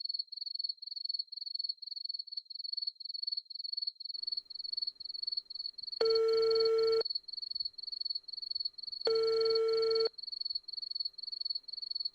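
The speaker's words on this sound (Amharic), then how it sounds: "የደወሉላቸው ደንበኛ ስልክ አይመልስም" An unanswered telephone call in an Ethiopian film: the ringback tone sounds twice, each ring about a second long, separated by a pause. A loud, rapidly pulsing insect-like chirp continues throughout.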